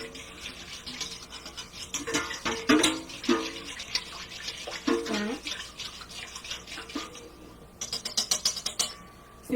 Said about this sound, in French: Et on va fouetter jusqu'à temps qu'il n'y ait plus de grumeaux.